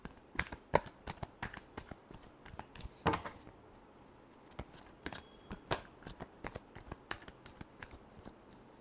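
Tarot cards being shuffled, a quick run of crisp riffling clicks and soft slaps in uneven bursts, close up and fairly quiet, with no talking over it.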